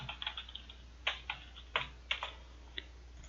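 Short bursts of typing on a computer keyboard as a folder name is entered, with quick clustered keystrokes and brief pauses, quiet and close with no talk.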